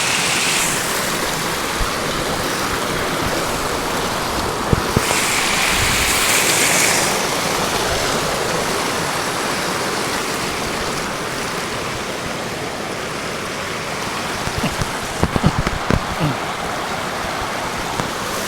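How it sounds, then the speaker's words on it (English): A small waterfall on a village river makes a loud, steady rushing wash that fills the whole stretch, with a few brief knocks near the end. "There's a fall there, a small fall."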